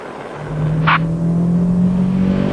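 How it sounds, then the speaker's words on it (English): A car travelling fast on a UK road, its engine holding a steady loud drone with a constant whirring tone, heard from close by without any talk. "He thinks the car in front is travelling suspiciously fast and signals it to stop."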